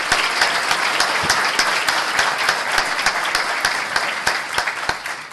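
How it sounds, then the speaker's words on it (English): Applause from the audience at a city council regular meeting in Baldwin Park, a steady patter of many hands clapping throughout, fairly loud and close, with no talk over it. "And I know that, and you should applaud her,"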